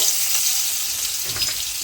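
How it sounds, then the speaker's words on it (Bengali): Garlic and dried red chillies frying in hot oil in a kadai, a steady close sizzle that continues evenly throughout with no talking. "রসুনটা ভালো করে একটু লালচে করে ভেজে নেব"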